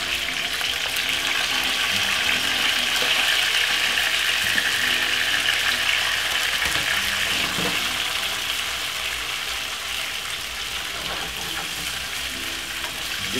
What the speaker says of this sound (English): Give it a nice lovely stir fry.